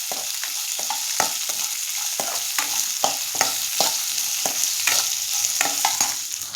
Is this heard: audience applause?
no